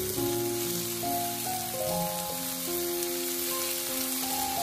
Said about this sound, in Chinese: 就这样一边按压一边翻炒，把辣椒的表面炒至虎皮状。